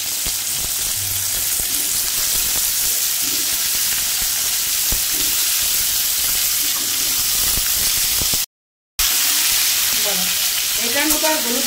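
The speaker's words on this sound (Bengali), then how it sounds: "এখন পেঁপেটাকে ভেজে নেবো এই তেলে।" Raw papaya pieces fry in hot oil with a loud, steady sizzle and hiss, stirred now and then. The sound cuts out for a moment and then comes back with bubbling crackles near the end.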